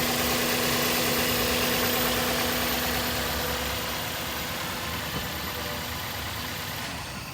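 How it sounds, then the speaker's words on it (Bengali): A 2001 Toyota X Corolla with an original Toyota 1500cc engine idles steadily, a close, even mechanical drone with a constant hum and slight rhythmic knock, fading a little toward the end. "এটা কিন্তু অরিজিনাল টয়োটা ব্র্যান্ডের 1500 সিসি ইঞ্জিন লাগানো।"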